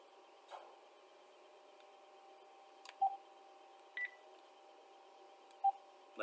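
Telephone redial keypad tones: a few short, isolated beeps spaced apart over a faint steady hum, fairly close and clear.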